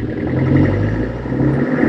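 Land Rover Defender with the 300 Tdi diesel engine accelerating on a test drive, a steady, loud low rumble and whir that swells slightly throughout, with no talking.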